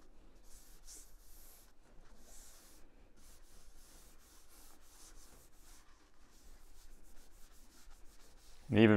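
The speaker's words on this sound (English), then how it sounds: "you can fully remove scratches just by applying a little dab of it and rubbing it across, even with just a paper towel" A paper towel rubs polish across a weathered stove in an old wilderness cabin, giving soft, continuous scratchy rubbing strokes in a steady back-and-forth rhythm, faint and close, with a sudden louder knock at the end.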